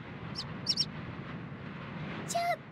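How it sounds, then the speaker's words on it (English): A cartoon little bird in Peppa Pig gives a few short high chirps, then a longer call near the end, over a soft background bed. "Well, hello, little bird."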